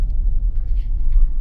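A car drives steadily along a road in Pattaya, heard as a continuous low engine and road rumble from inside the vehicle, with a faint murmur of voices now and then.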